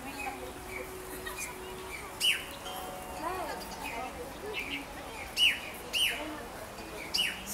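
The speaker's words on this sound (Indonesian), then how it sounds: "Suara burung ya teman-teman ya." Several short bird chirps ring out at moderate distance over a steady outdoor hiss, spaced irregularly with pauses between calls.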